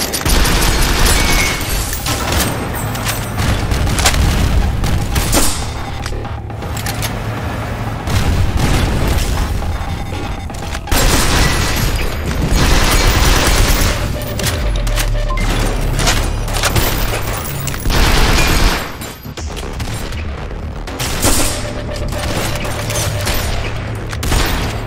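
Continuous gunfire and booming explosions from the twin-stick shooter game Synthetik pound throughout, loud and heavy with repeated blasts and bursts in a co-op sniper match.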